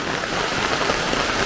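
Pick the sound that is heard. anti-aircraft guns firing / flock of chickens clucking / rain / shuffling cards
rain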